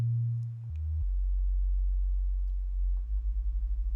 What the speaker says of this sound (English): we're going to create that bass sound